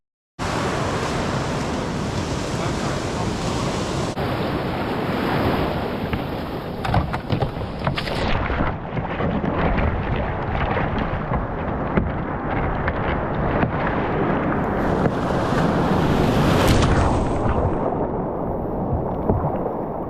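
Ocean surf breaks at a beach launch while strong wind roars across it, a loud, continuous, rushing wash of waves and gusts with no talking.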